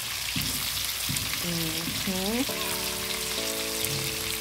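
Fish frying in a pan gives off a continuous close, busy sizzle throughout, with a few brief tonal sounds over it.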